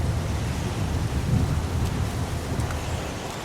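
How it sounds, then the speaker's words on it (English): Heavy rain pours steadily in a video game scene, with a low rumble of thunder rolling beneath the dense hiss throughout, loud and continuous with no voices. "It's pouring rain."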